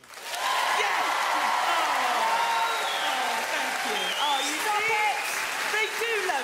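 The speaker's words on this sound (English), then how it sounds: "let's give her a round of applause" Audience applause at a live comedy stage show, a loud, continuous roar of clapping mixed with cheers and shouting voices that holds steady throughout.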